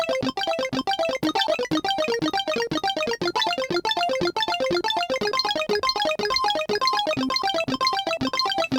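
A Roland Fantom synthesizer plays bright 8-bit chiptune-style patterns, fast repeating square-wave arpeggios and notes in a steady, busy loop, loud and continuous.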